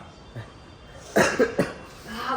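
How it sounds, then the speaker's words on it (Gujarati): Three quick, harsh coughs in close succession, near and fairly loud, after a brief quiet stretch. "મારી ઉધરસ હજી સારી નથી થઈ,"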